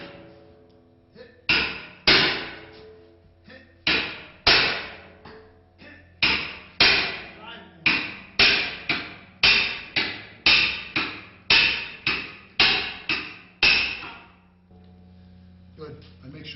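Axe striking a halligan-type forcing tool while breaking an inward-opening door during forcible entry training: sixteen or so sharp metallic blows in a steady, slightly uneven rhythm, close and loud, with a voice calling out between strikes.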